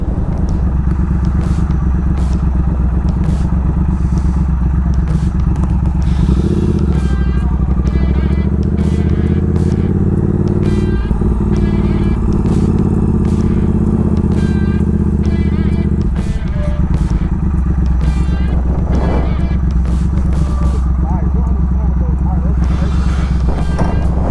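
A Harley-Davidson Street Bob 107 rumbles loud and close throughout, its deep engine drone holding steady with brief shifts in pitch, while wind buffets and a rider's voice talks intermittently over the engine.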